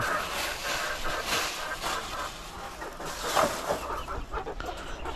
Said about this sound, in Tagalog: May maliliit na manok.